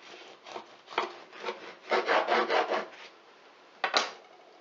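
Knife sawing through a loaf of low-carb bread, giving a series of short dry rasping strokes, close and fairly soft, with a denser run of cuts in the middle and one last stroke near the end.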